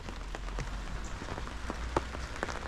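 Rain falling on and off at an outdoor fence job, a steady soft patter of drops on surfaces with scattered sharper individual taps, no talking.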